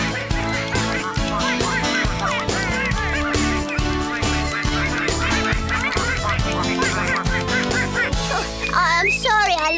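Cartoon ducklings in a Bob the Builder episode quack and honk repeatedly over loud, busy background music, their calls bright and close in a dense soundtrack.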